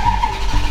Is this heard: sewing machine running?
no